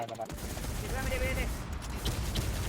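Rapid gunfire from a shooter video game crackles continuously and loudly for a few seconds, with excited voices talking over the shots.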